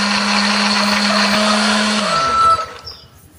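A blender whirs loudly and steadily, grinding shallots, turmeric, candlenuts and pepper with a little water, then winds down and stops near the end with no talk.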